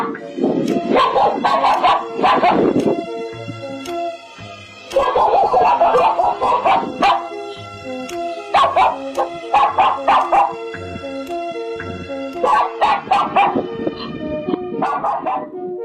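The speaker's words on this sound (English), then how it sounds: "the surveillance suddenly captured the sound of dogs barking frantically" Surveillance camera audio at night: loud, music-like tonal passages repeat in bursts with sharp percussive accents, over which frantic dog barking comes and goes in clusters.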